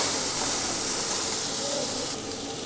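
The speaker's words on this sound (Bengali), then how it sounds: "কাঁচা লঙ্কা দিয়ে কুমড়োটা ভাজা করছি" Pumpkin frying with green chilli in a hot pan makes a constant loud hiss, easing slightly in level near the end.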